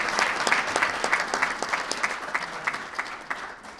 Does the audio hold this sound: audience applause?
yes